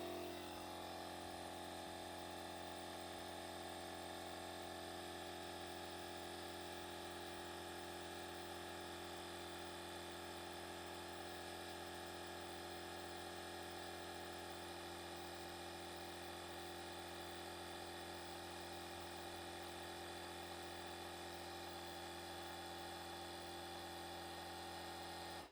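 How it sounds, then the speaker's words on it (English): A WOLFBOX portable tire inflator air compressor runs steadily for about 25 seconds, a constant, faint motor drone and whine with no talking over it. "put this on, latch it down, and then we should be able to just hit the middle button. So let's see how fast it goes."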